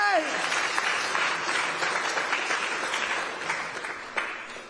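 Audience applause at a live boxing press conference, a dense wash of many hands clapping steadily throughout, fairly loud and close, tapering slightly toward the end with a faint voice or two beneath.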